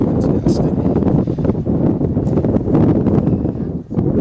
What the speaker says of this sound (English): And of course, the wind picks up.